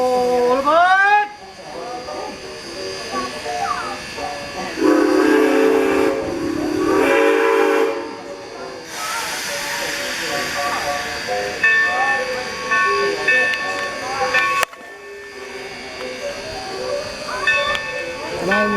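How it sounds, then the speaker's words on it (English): A steam train whistles loudly at Essex Station and then chuffs and rumbles as it pulls away, the whistle returning in bursts over steady rolling rail noise while people talk nearby. "The 2 p.m. train is now departing Essex Station"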